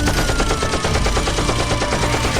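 Rapid machine-gun fire from a gun mounted on the back of a monster truck, a dense continuous burst of loud shots filling the whole stretch.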